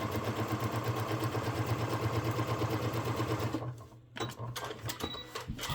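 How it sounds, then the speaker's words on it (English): A sewing machine runs a fast, even top stitch along a fanny pack, its rapid needle rhythm close and steady before stopping, then a few short mechanical clicks and handling sounds follow. "I'll do a little top stitch."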